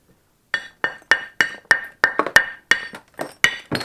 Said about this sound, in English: We're going to swing the moose billet.